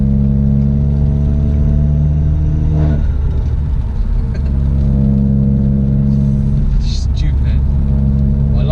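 A Vauxhall Astra VXR engine holds a steady, loud idle around 2,000 revs, with a brief rev swell near the middle and a rumbling exhaust drone throughout; a person talks over it.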